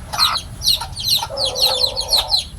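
Labuyo-type jungle fowl chicken clucking up close in a series of short, sharp, repeated calls with a brief throaty cry in the middle, heard alone.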